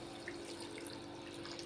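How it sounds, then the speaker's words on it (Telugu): A glass of water is poured into a pan of chicken curry, producing a faint, continuous splashing trickle against a low hum. "1 గ్లాస్ అయితే వాటర్ పోస్తున్నాను నేను"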